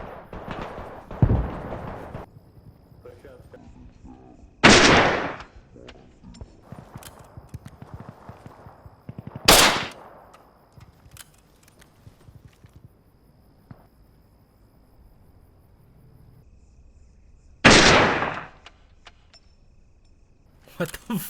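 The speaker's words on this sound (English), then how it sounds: "So that gunfire in the distance is our friends shooting" Distant gunfire in the military shooter game Arma Reforger comes as a few sharp, isolated loud reports spaced several seconds apart over quiet ambient insect chirping.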